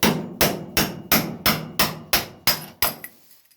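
A hammer taps a metal hinge pin tool on a Ford Escort Mk1 nine times in a steady rhythm, each strike sharp and ringing, the last ones lighter and fading.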